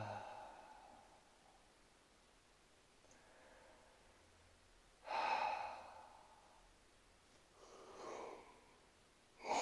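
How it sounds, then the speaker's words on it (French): Someone yawns and breathes deeply during a relaxation exercise, with soft breathy exhalations rising into a few louder drawn-out yawns, close and quiet, no talking. "Si tu bailles comme ça, c'est normal."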